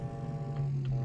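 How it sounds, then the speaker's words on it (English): Truck horn in Farming Simulator 19 blaring as one long sustained low, buzzy tone that holds steady throughout, loud and close with nothing else heard. "big old truck horn on that"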